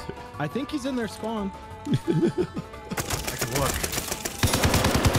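Rapid gunfire from a Call of Duty: Vanguard Search and Destroy match, dense bursts of shots in the latter half, with people talking and laughing over the first part.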